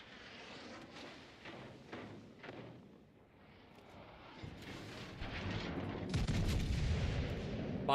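Naval gunfire in World of Warships Legends, with high-explosive shells landing on a ship during a ranked battle: booming shots and impacts that build into a loud, dense barrage toward the end.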